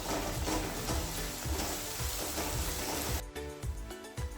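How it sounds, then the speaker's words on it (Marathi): Chopped tomatoes sauté with fried onions in a pan for a masala methi dish, a steady close sizzle with repeated rhythmic stirring scrapes that carry on throughout. "आपलं टमाटर छान परतून झालंय।"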